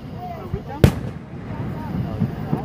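A firework bursts with one loud sharp bang near the middle, a softer pop earlier and a few dull thuds later, all over a murmur of distant voices and crowd noise.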